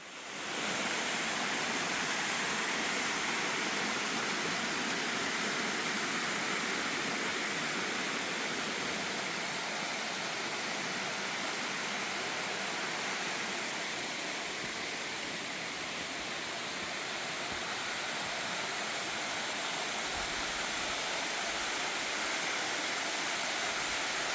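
Waterfall plunging down a cliff tens of metres high on a hidden urban trekking course, heard as a dense, steady roar of falling water that carries on unbroken throughout.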